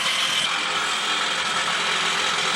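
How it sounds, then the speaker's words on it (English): An electric jackhammer pounds at an excavation site in a continuous loud rapid rattle, close and steady for the whole stretch with no talk over it. "As you hear the electric jackhammer"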